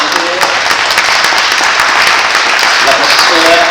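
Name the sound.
audience applause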